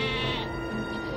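A sheep bleats in a single sustained, wavering cry, close and steady for about a second, with no talking.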